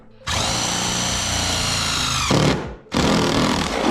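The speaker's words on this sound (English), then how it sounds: "go in with 2 little screws, and the screws come with it" A power drill drives small screws into a kayak light mount, whirring loudly and close in two bursts separated by a brief pause.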